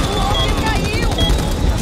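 Gunfire in the video game Back 4 Blood: a dense, continuous roar of rapid shots with rumbling low end, steady and loud throughout the short stretch.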